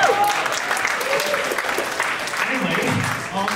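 A crowd at a cultural night performance event claps steadily throughout, a moderately loud wash of applause from many hands.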